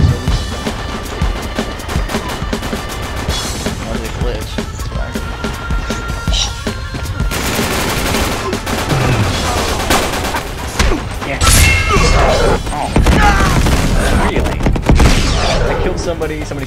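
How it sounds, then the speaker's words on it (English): Sniper shots and grenade blasts in Uncharted 3 multiplayer, a video game, come as loud sharp cracks and booms in quick succession. They are set against dense continuous battle noise and a few bursts of speech. "Somebody sniped me and then grenaded me."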